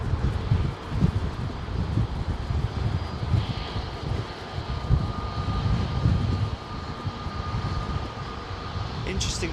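A TAP Airbus A320neo-family jet departs a busy London airport, its engine roar a steady broad rumble with wind buffeting across the microphone, moderately loud and sustained throughout.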